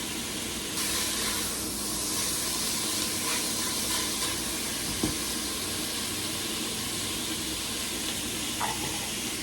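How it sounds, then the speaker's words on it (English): A pot of salted water with a pound of ziti boiling in it gives off a steady, soft, hissing bubble throughout, with a few faint clicks and clinks in the kitchen. "Behind me, I already have my 1 pound of ziti noodles boiling in salty water."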